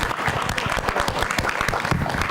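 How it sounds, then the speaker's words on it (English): An audience at a sports awards ceremony claps loudly and densely, a close, busy burst of applause with no voices over it. "a big clap for Nirmal please"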